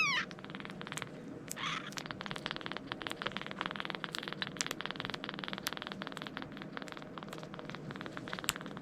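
A kitten meows briefly a couple of times indoors over a dense run of quick scratchy clicks and rustling.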